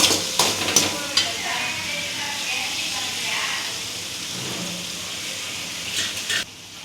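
Small onions sauté in hot oil for a brinjal curry, giving a steady sizzle with a few scraping stirs at the start and near the end, close and fairly loud.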